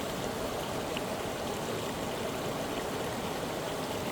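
A river flows in a steady, even rush of moving water heard from the middle of the stream at a camping spot. It is continuous and moderately loud, with no voices.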